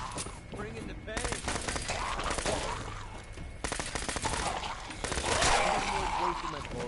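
Gunfire from Fallout 4 comes in rapid, dense bursts of shots, loud and sustained across the whole stretch and layered over other game sounds. A person talks in the middle of the firing.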